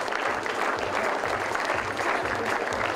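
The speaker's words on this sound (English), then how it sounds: "These claps are for students" Steady, dense applause from a large audience at an MBA programme launch event, continuous and even for the whole stretch with no voices standing out.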